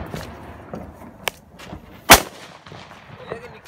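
A Diwali firecracker bursts with one sharp, loud bang in an outdoor setting, preceded by a smaller crack and scattered faint pops.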